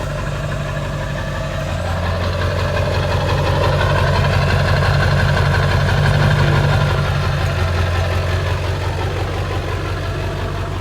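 A Ford Power Stroke diesel idles steadily in an F-250 camper truck, a loud, close, continuous low rumble with a rough knocking clatter and no talk over it.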